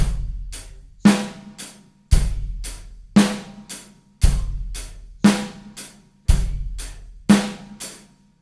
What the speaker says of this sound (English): We are then going to try and bring the snare drum in on the 2 and the 4.